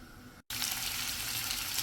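Bay leaf, cardamom and a piece of cinnamon hit hot oil after mustard seeds, giving a steady, close, fairly loud sizzle that runs on after a brief cut, with no talking.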